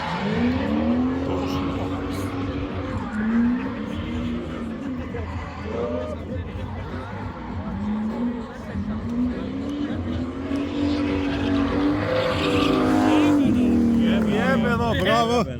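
BMW E36 with a V8 engine of around 300 horsepower drifting at a Željava race event, engine revving and wavering through repeated slides with tire squeal, while a commentator talks over it throughout.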